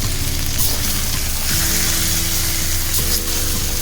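Cauliflower, peas, beans and tomato fry in a pan for broken-wheat khichdi, giving a loud, steady, close sizzle that runs unbroken with faint stirring and no talk.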